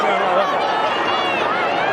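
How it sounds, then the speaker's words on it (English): Crowd noise at the 2011 VFL Grand Final between Port Melbourne and Williamstown, a steady roar and babble of a large stadium crowd filling the air throughout. "Have a listen to the crowd."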